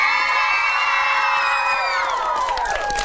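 A game-show studio audience cheers and whoops loudly in a sustained burst of crowd noise, with children's shouts and yells mixed in, fading slightly toward the end.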